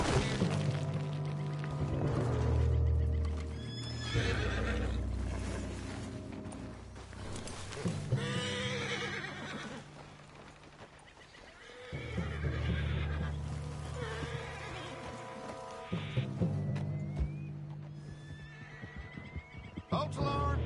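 Horse neighing repeatedly in the Red Dead Redemption video game, loud whinnies mixed with hoof clatter and game effects, close and prominent over a varied background.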